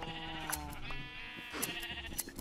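Several wavering bleats from Minecraft sheep follow one another over quiet in-game ambience, moderately close with faint clicking in between.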